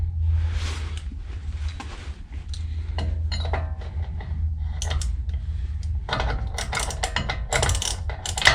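A wrench tightens Dana 44 axle parts to 40 foot-pounds with a series of close, crisp ratcheting clicks in quick bursts, irregularly spaced over a low steady hum.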